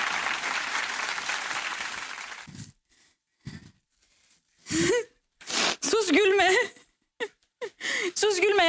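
Hands clap steadily in a kitchen during a potato-and-yogurt meze cooking session, loud and sustained for about two seconds, then short bursts of talk and laughter follow.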